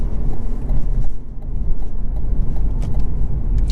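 A 2022 Cadillac CT4-V Blackwing growls loudly and steadily in track mode from inside the car, with low rumbling exhaust and occasional faint rattles, no talking.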